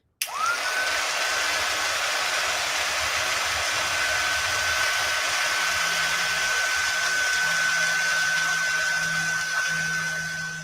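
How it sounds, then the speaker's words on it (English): A heat tool melts gold embossing powder on a card craft project, running as a steady, loud, airy blowing whine with a constant pitch that continues unbroken for about ten seconds. "Now I can heat emboss it."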